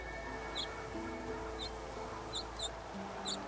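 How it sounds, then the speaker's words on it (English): Faint bird in a tree in Divinity: Original Sin 2 gives short, high chirps in pairs, repeating every second or so over a steady hum of game ambience. "There is some bird on the tree,"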